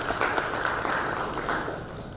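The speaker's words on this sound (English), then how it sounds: "A big round of applause" Audience applause at a venture capital panel event, a dense steady wash of clapping from a sizable crowd that holds for a couple of seconds and gently tapers.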